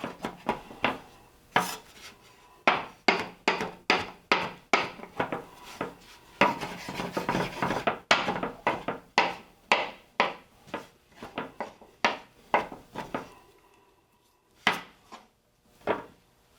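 Brisk, irregular knife chops through shiitake mushrooms on a cutting board, a quick string of sharp close taps with short pauses between bursts, no talk.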